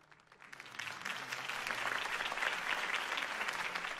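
A crowd in the Batman The Telltale Series video game breaks into applause that swells from a thin start into dense, sustained clapping at a moderate distance, alone without speech.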